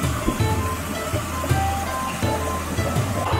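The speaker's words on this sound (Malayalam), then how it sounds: "ഒരു ചെറിയ അരുവി ഒഴുകി വന്നൊരു പോണ്ടിലേക്ക് വരുന്ന പോലുള്ളൊരു സെറ്റപ്പാണ് ഇവർ ചെയ്തിരിക്കുന്നത്." Small stream trickling into a pond in a Japanese garden in Sydney, a steady close wash of flowing water with soft low gurgles and no talk.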